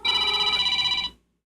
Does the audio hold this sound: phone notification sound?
yes